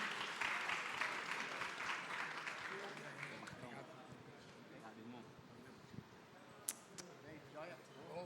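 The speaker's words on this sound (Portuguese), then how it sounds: "Salva de palmas." Audience applause at a Brazilian community talks event, broadband clapping fading over several seconds into quieter room sounds with a few sharp knocks near the end.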